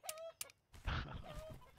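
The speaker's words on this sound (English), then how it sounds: "I see a couple more chickens." Chickens cluck in the survival game Survive the Nights, a few short, faint clucks and squawks in quick succession, close and alone.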